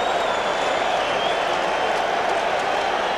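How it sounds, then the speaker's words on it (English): Baseball stadium crowd at the 1986 World Series Game 7 roaring steadily, hoping for a strikeout, a dense, continuous wash of cheering and applause with no pauses. "Crowd making the kind of noise it normally makes for Dwight Gooden"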